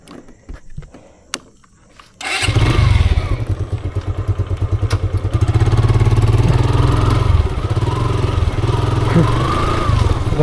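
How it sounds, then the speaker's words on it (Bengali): A motorbike starts on the road after a few faint knocks, then settles into a loud, close, rapid thumping idle that stays steady to the end. "একদম রাস্তায় যে চালু করি বাইক।"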